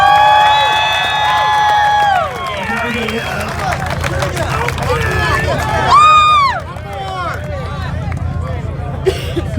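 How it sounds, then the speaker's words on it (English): A crowd at an outdoor car meet's exhaust competition cheers and shouts loudly, with whoops and excited voices rising and falling over a continuous babble. "let's all just give them a big round of applause"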